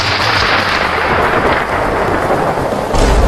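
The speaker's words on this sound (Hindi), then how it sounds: "रिम झिम पानी बरसा।" Heavy rain pours steadily while deep thunder rumbles through it, a dense, loud downpour with no voices.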